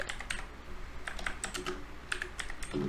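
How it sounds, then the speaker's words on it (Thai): Rapid, irregular typing on a computer keyboard, crisp close key clicks in quick bursts with brief pauses, no voices. "พิมพ์ถูกไหมไม่รู้"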